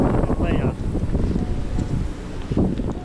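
Strong gusting storm wind with rain buffets the microphone in rough, uneven roars, with rustling trees in the background throughout, on São Miguel Island in the Azores.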